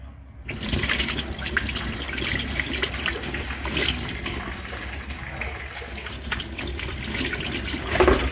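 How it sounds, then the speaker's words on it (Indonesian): Hands are rinsed under running tap water, a steady close splashing stream that starts abruptly and continues unbroken for about eight seconds. "Akhir sekali, bilas dengan air bersih."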